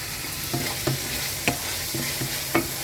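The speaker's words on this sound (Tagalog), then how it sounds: "Ito yung mixed vegetable ang ihahalo ko dito." Mixed vegetables are stirred into chicken hearts cooking in a pan, giving a steady sizzle with several distinct scraping knocks of the utensil at irregular intervals, close and fairly loud.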